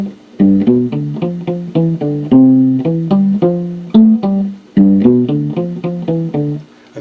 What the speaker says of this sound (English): La Bamba also has a melody to it that sounds like this.